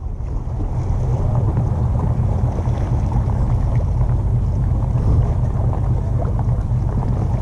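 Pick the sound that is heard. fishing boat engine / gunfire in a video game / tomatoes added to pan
fishing boat engine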